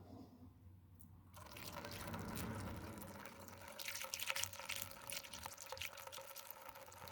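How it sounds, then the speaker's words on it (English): Gasoline poured from a container into the small fuel tank of a mini chopper with a Chinese 49cc two-stroke engine kit, a steady liquid trickle and fill sound that starts after a second and runs on, fairly quiet, with no talking. "now we pour the gas in there"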